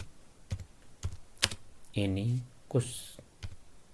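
Keys on a computer keyboard are tapped in short bursts, with a few clicks, while someone types HTML code and talks over it.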